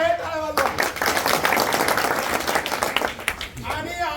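A crowd at an election victory gathering claps in dense, sustained applause, with a voice heard briefly before and after the burst of clapping.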